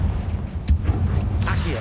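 The Confringo blasting spell in Hogwarts Legacy goes off as a booming explosion, with two sharp blasts over a low, rumbling background, the second followed by a crackling tail.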